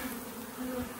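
A honey bee swarm at a hive on a warm summer day, a dense, steady buzzing drone that holds close and loud throughout with no voices over it.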